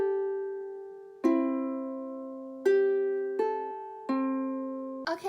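Ukulele open strings are plucked or strummed in a pattern, each stroke ringing out clearly and decaying, about five strokes with uneven gaps, played alone and close with no voice.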